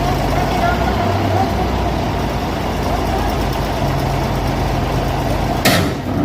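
A loader lifting a vehicle at a worksite in Saudi Arabia: a heavy diesel engine drones steadily at close range throughout, with a voice talking over it.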